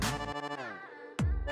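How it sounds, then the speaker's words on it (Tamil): A phone rings for an incoming call, a melodic ringtone of clear tones that repeats as a short burst, heard alone in a TV drama scene. "அனுவா இந்த டைம்ல எதுக்கு கால் பண்றா?"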